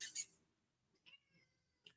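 An indoor house cat gives a short, high meow, followed by a few fainter, softer chirping mews spaced out over near silence.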